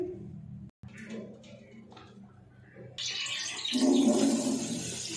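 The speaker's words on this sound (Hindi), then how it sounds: "1 किलो घी डाल देंगे" One kilo of ghee poured into a large pot for a four-kilo chicken pulao, starting quiet and then rising into a loud, rushing pour and sizzle that continues steadily to the end, with no talking.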